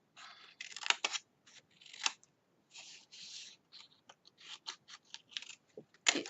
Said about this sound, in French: Et je coupe les bouts en biseau comme ceci.